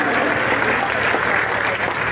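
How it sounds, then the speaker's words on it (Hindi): A crowd at a Shri Kalki Jayanti gathering gives loud applause, dense and continuous clapping that fills the brief moment from start to finish. "जोरदार तालियों से"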